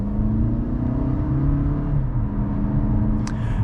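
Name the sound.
2023 Toyota Camry SE four-cylinder accelerating in eco mode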